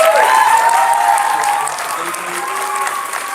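Audience at a school board meeting applauding steadily, a dense wash of clapping from a crowd that holds for several seconds and eases off slightly toward the end.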